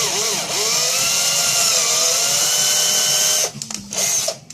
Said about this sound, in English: Of course, I need a bigger drill bit.